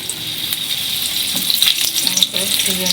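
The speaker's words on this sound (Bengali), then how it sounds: "তেলের মধ্যে আমি পটলগুলো একটা একটা করে ছেড়ে দিচ্ছি" Pieces of pointed gourd (potol) fry in hot oil with a loud, crackling sizzle, sharp pops and spatters rising as more pieces drop in.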